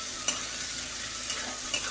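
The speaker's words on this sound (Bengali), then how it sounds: "পেঁয়াজ দিয়ে একটু লবণ দিয়ে দিলাম, তাহলে পেঁয়াজটা কি তাড়াতাড়ি নরম হয়ে ভাজা হয়ে যাবে" Chopped onions with a pinch of salt frying in a pan alongside cardamom and bay leaves, giving a steady close sizzle with occasional stirring scrapes and clinks, no voices.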